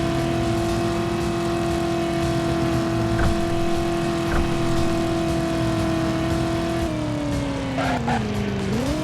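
Engine drone from a car in the PlayStation game Driver, a steady buzzing hum that holds its pitch while cruising, then drops and climbs again near the end, with faint bumps along the way.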